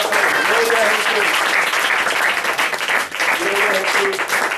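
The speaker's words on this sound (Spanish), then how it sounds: "Denle el aplauso a Jesús" A church congregation applauds during an Easter service, steady dense clapping filling the room for several seconds with voices calling out over it.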